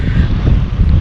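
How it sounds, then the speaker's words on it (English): Steady wind buffeting the microphone out on a lake while crappie fishing in high, muddy water, a continuous low roar with no speech. "We're gonna try to get out of this wind so we can videotape a little better."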